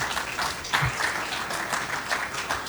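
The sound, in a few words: audience applauding at ceremony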